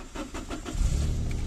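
A used car's engine is started with the ignition key: a few seconds of rhythmic starter cranking, then the engine catches and settles into a steady low idle, close by.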